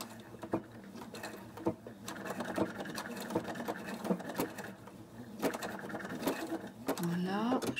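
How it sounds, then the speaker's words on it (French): A sewing machine runs a tight zigzag stitch, its fast mechanical whirr and needle chatter continuing for nearly eight seconds with brief pauses, while a voice speaks over it and the machine ends in a rising whine. "je vais régler un point zigzag assez serré"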